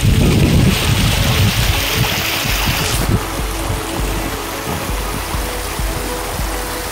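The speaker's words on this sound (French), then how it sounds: "On est arrivé là où on voulait, donc c'est la cascade." A waterfall on Réunion Island roars loudly and steadily, a dense, close rush of falling water with constant wind buffeting the microphone.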